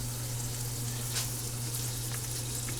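Carrots stir-fry in a pan with a steady, close sizzle and frying crackle, and a low hum underneath, with no one speaking.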